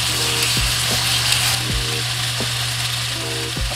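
Shredded carrot frying in a home kitchen pan, a steady broadband sizzle running throughout, close and moderately loud, with a few soft knocks and utensil taps mixed in.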